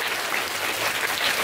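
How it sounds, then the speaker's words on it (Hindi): Schoolchildren and audience at a school inter-house competition clap in a brief, fairly soft burst of continuous applause, with no voices on top. "एक बार जोरदार तालियां उनके लिए"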